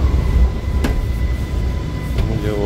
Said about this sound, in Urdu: تو جیسے ہم بھی پہنچے، ہمارے میٹرو بھی پہنچ گیا